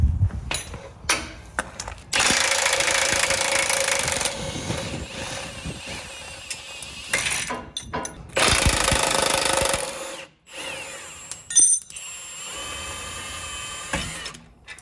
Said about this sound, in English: you can get our 18mm socket and wrench, and then disconnect the shocks from the axle mounts